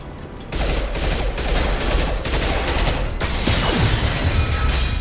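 Loud, steady automatic gunfire from Mass Effect 2, fired in dense, sustained bursts at a target, with mechanical clatter and almost no talk over it.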